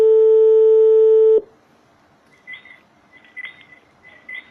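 A telephone tone sounds while a call is placed on a live French talk broadcast: a loud, steady tone holds for about a second and a half and then stops abruptly, followed by faint chirping blips.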